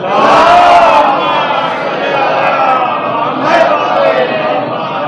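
A large crowd chants salawat together in loud, sustained unison voices at a Chehlum religious gathering, swelling at the start and again near the end.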